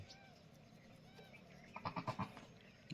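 Newborn goat kids in a farm shed give a short run of soft, quavering bleats about two thirds of the way through, fairly faint against a low background hum.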